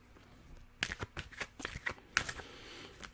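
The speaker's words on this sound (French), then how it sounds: "nous allons mélanger les cartes." Tarot cards are shuffled close up in soft, quick bursts of riffling and flicking, with two clusters of crisp card slaps separated by brief pauses in a quiet room.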